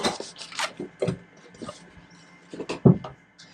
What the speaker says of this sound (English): Now I'm just going to fold and burnish.